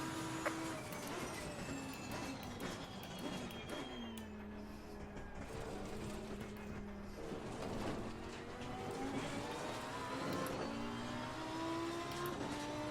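Race car engine in a sim racing game at Monza, a continuous high whine rising and falling through gear changes and acceleration, with several overlapping engine tones.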